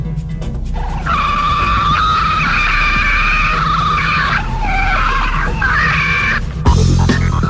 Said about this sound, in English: Police headquarters was able to record what is said to be the call of a Sasquatch.